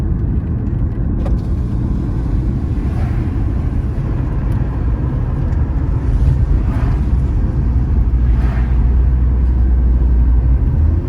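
A car drives along a street in the upscale Maitama district of Abuja, its engine and road noise a steady low rumble throughout, with faint wind buffeting and no talk.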